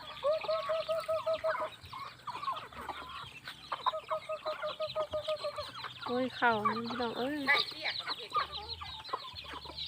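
Chickens cluck and a rooster-like call rises amid the flock, with a person speaking briefly over the busy, close-up barnyard chatter.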